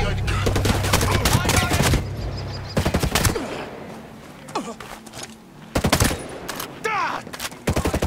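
A mounted machine gun in the Ghost Recon video game fires loud, rapid bursts with short pauses between them. Voices speak between the bursts.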